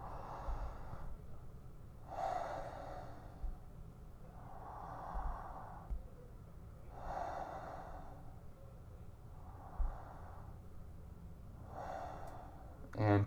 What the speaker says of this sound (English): Take 3 intentional, slow, deep breaths.